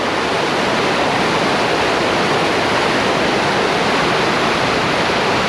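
River rapids at the Nantahala Cascades rush in a loud, dense, unbroken roar of white water, steady and close with no voices.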